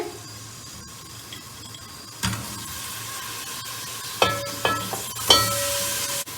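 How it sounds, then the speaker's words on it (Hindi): Finely chopped carrots hitting hot oil in a pan, a steady close sizzle with a sharp burst as they go in, followed by several clattering stirs of a spoon against the pan. "उसमें 7 गाजरें हमने बारीक काट करके रखी हुई थी, वो ऐड करेंगे।"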